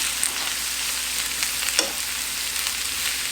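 Shrimp for spicy fajitas fry in a pan with onions, a steady close sizzle with a faint scrape or two, no voices.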